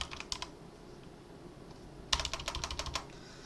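Quick clicking keystrokes on a computer keyboard, a short burst at first and then a longer run of rapid taps, close and fairly quiet.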